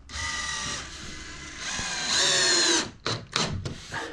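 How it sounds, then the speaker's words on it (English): A power drill drives screws into plasterboard for a garden room: a steady whirring run that rises in pitch and loudness near the end, then several short, sharp bursts. "So I normally try and put a couple of screws at the top first, and that will be enough."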